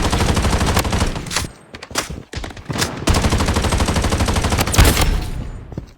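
Gunfire in the shooter game Blood Strike, with pistol shots crackling rapidly in dense loud bursts, briefly pausing near the middle before resuming with close, sharp reports.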